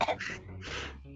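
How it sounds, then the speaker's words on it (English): A short wet gurgle followed by a rough cough, close by and moderately loud, over about a second with no speech. "you hear a gurgle and a cough behind you."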